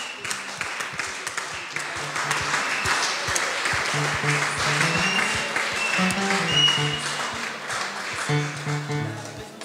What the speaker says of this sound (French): est-ce que nous pouvons encore acclamer pour notre Dieu?